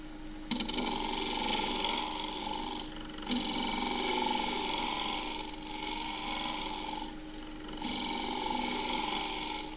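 End grain scraper cutting a small green casuarina bowl spinning on a wood lathe, a steady close rasping scrape with a constant tonal hum, broken by a few brief pauses where the tool lifts off.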